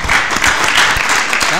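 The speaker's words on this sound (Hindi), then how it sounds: "एक बार वीर्याचार टीम के लिए एक बार हम तालियां बजा दें।" An audience at an antakshari singing event claps for a team, a brief burst of dense, loud applause close by.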